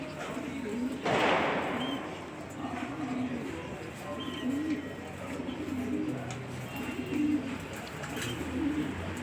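Domestic pigeons coo steadily in low, rolling calls that repeat through the whole stretch. Faint background noise continues under them, and one sharp knock or flutter stands out near the start.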